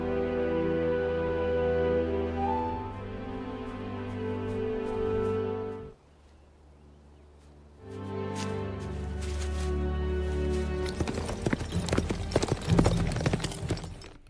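Horses gallop in a Korean historical epic about a Joseon royal archer fighting Qing Manchu troops. A rapid drumming of hooves builds under a swelling orchestral score, breaks off in a brief lull, then surges back louder and denser.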